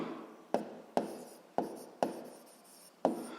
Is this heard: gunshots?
no